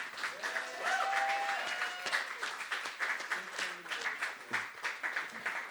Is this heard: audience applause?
yes